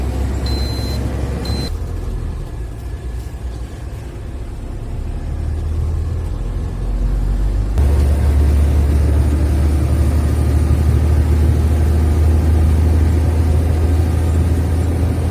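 A concrete truck heading to a construction site in Bucha, Kyiv region, drives along with a loud steady engine drone and road rumble that grows heavier partway through as the engine works harder.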